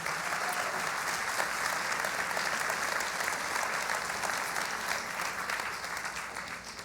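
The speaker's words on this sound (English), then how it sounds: "So another round of applause for these wonderful men." A Canadian audience assembled in Alberta claps steadily for a group of men on stage, a full, even wall of applause that holds for several seconds before tapering off slightly at the end.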